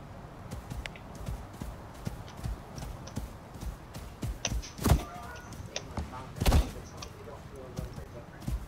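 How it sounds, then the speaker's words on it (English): Hooves of a ridden buffalo in the Icarus video game, a steady soft clip-clop under quiet background ambience, with a few louder thuds standing out near the end. "on our first buffalo ride"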